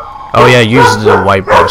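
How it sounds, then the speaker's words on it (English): A guard dog barks and whimpers close by, a loud yelping burst under people talking. "a guard dog barking in my ear."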